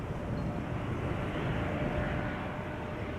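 Embraer 195 airliner arriving at Amsterdam Schiphol Airport, a steady, fairly faint broadband jet roar with a low rumble, constant throughout with no voices.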